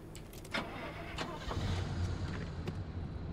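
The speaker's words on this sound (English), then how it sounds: "I left the engine running." Car engine in a video game adventure, a low steady rumble with a few clicks and knocks on top, fairly quiet with no voices.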